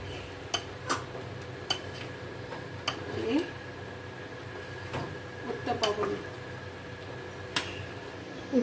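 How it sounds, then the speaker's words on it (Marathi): Tomato and coriander being stirred together for coconut chutney, with scattered light clicks and taps of a spoon on a container over a steady background hiss, close and moderately quiet. "टोमॅटो आणि कोथिंबीर आता हे आपण व्यवस्थित मिक्स करू"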